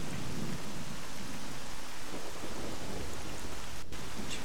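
Heavy rain pours steadily in a video game, with low thunder rumbling beneath the dense hiss throughout.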